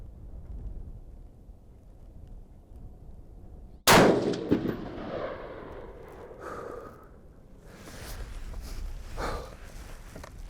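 A single sharp .224 Valkyrie rifle shot firing a Federal 90gr SMK round outdoors at a range, loud and close, with a rolling echo that trails off over several seconds.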